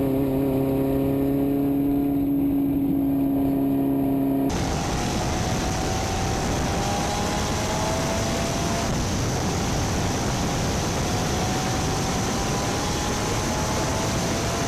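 Vintage MG race cars, including TD models, circle Grattan Raceway, a steady broadband engine roar that shifts abruptly from a tonal drone to a dense rushing sound, loud and continuous with no voices.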